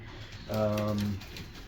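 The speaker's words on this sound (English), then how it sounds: "observe the birds flying around the coop" A racing pigeon at its loft gives a single soft, low coo, brief and close, over faint background noise.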